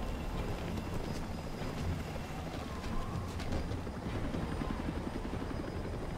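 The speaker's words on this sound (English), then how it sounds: "He can't fit in the helicopter." A helicopter in the video game Batman: Arkham Origins, a loud, steady rotor whir and rumble that continues throughout with faint scattered effects in the background.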